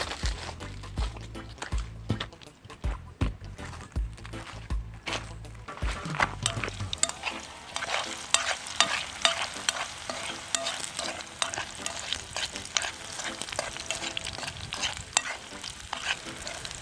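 Ackee mix frying and being stirred in a pan outdoors, a roast breadfruit and ripe plantain meal; steady close sizzle with scraping spoon strokes, preceded by a few seconds of lower rumbling clatter as ingredients go in.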